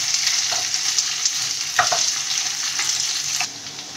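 Potatoes fry with roasted cumin seeds in a pan, a steady, close sizzle broken by several scraping stirs, and the hiss eases slightly near the end.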